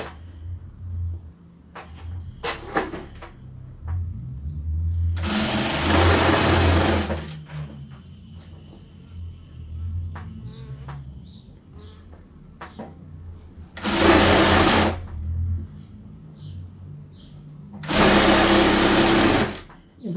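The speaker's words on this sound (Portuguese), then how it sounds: "Venho costurando de volta com retrocesso." A sewing machine runs in several bursts while stitching a double-sided fabric table mat from scraps, including a reverse backstitch, with loud whirring runs of a second or two separated by quieter pauses and soft handling noises.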